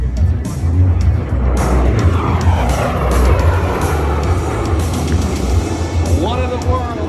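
A warbird makes a high-speed pass at the Nellis Aviation Nation airshow, its loud engine roaring steadily and then sweeping past with a falling pitch toward the end.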